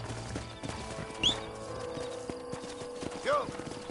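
Horse hooves clip-clop at a walk in the Red Dead Redemption video game on PS5, with a short whinny and game ambience, under a voice talking.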